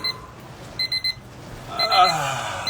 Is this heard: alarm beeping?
yes